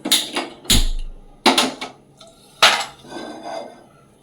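A flat tawa pan set on a kitchen stove with pots clattering, several sharp metallic clanks and knocks at uneven intervals, close and loud, with no talk.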